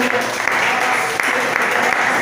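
A church congregation at a live family worship service claps briefly in welcome, a close, lively patter of hand claps with voices mixed in.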